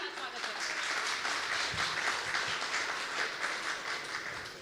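A crowd at the R Bharat Summit 2023 applauds to welcome the classical singer Channulal Maharaj, a steady, fairly soft wash of clapping with voices mixed in beneath it.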